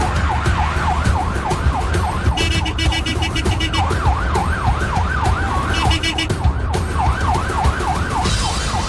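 Ambulance siren wailing loudly and continuously in a rising-and-falling pattern, heard from a motorcycle following close behind through city traffic, with steady engine and road noise underneath.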